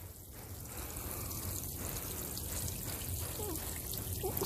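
Water poured steadily from a container into an 18-gallon self-watering tote, a continuous low trickling and splashing stream at moderate distance, with no talk over it.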